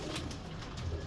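Sialkoti pigeons cooing in a coop, low soft coos repeating steadily against a constant hum of background noise.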